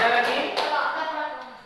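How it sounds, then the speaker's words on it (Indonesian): A classroom of students claps hands together in a sustained burst of applause, steady and fairly loud throughout, with a brief sharper tap near the start. "Tepuk tangan ya."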